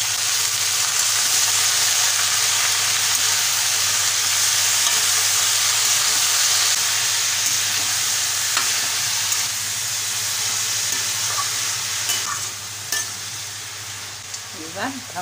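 Snake gourd with turmeric and salt frying in a pan, a loud steady sizzle under continuous stirring, with scattered scrapes and clicks from the utensil growing more distinct toward the end.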